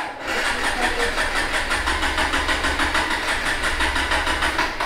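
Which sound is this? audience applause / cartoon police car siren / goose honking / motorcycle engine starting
motorcycle engine starting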